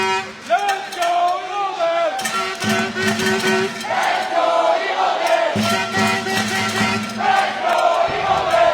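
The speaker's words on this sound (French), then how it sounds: "on sent la foule partisane pour nos hirondelles" Partisan crowd at a U16 championship girls' match, cheering and chanting loudly and close, with horns tooting and a sustained roar of voices throughout.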